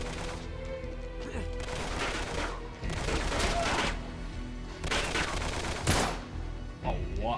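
Gunfire erupts in the video game Uncharted: Drake's Deception in the London Underground, with loud rapid bursts and heavy impacts in repeated waves, mixed with game sound effects.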